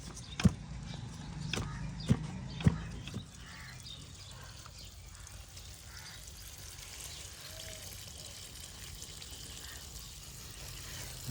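Water spraying from a shower-head watering can onto soil in a village garden in Pakistan, a soft steady patter and trickle preceded by a few sharp knocks, faint and continuous.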